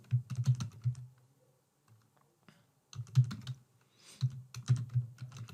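Bursts of rapid keyboard typing, close up, in two clusters separated by a brief pause with faint clicks.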